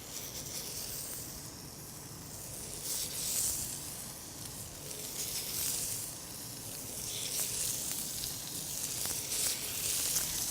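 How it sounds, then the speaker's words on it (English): Oiled shrimp, scallops and other seafood sizzle steadily on a grill, a continuous close hiss and crackle that swells and eases in waves with no one talking. "let's get ready to place them on the grill"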